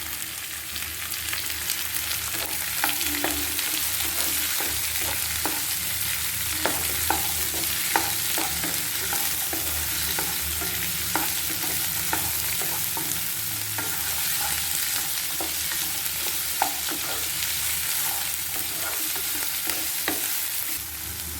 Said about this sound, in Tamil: கேரட்டு, பச்சை பட்டாணி, பீன்ஸு எல்லாத்தையும் சேர்த்து நல்லா வதக்கணும்